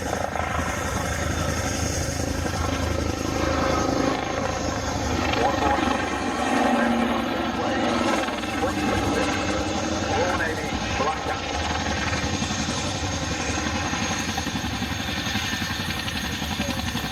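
Royal Navy display team helicopter flying at the Cosford air show, a continuous loud rotor and turbine drone holding steady throughout, with a voice talking over it.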